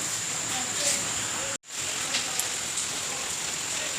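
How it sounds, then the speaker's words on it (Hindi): Heavy rain pours in a town near a gurudwara in Uttarakhand early in the morning, a steady loud hiss of downpour that cuts out for a split second midway and then resumes. "हम निकलने ही वाले थे कि बारिश शुरू हो गई है, मतलब कड़क बारिश हो रही है"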